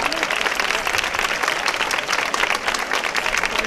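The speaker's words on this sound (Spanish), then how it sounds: "Creo que se merece un fuerte aplauso y está aquí." A crowd gathered for a flower offering at a pilgrimage festival breaks into dense, continuous applause. The clapping holds at a steady level throughout, with a faint murmur of voices underneath.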